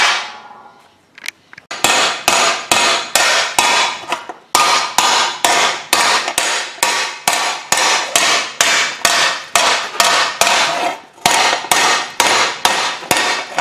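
A hammer repeatedly dropped onto sheet metal held over a hole while shaping a metal whale, giving loud, close, evenly spaced ringing strikes in a steady back-and-forth rhythm, with a brief pause partway through.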